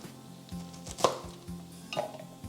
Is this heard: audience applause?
no